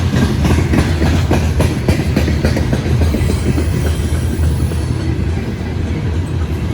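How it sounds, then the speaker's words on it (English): A loaded grain freight train rolls past close by, loud and steady, its wheels clicking rhythmically over rail joints as the heavy cars go by. "This is a loaded grain train."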